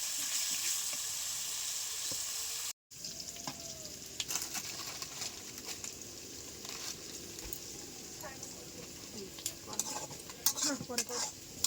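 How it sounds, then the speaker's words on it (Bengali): Potatoes frying in oil in a pan give a soft continuous sizzle, with occasional scrapes and taps of a spatula, close but fairly quiet; a brief dropout near the start, no clear talk. "আলুগুলো লাল লাল করে ভেজে আমি তুলে নিচ্ছি"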